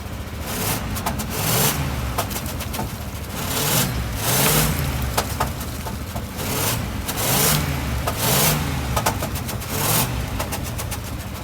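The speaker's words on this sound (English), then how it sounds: "I'll rev it over here so you can see the stuff flying out of the exhaust" A 1985 Chevrolet K20 pickup truck engine, long neglected with mice nesting inside, revved repeatedly in slow swells from a rough idle, close and loud with a rumbling, uneven exhaust note.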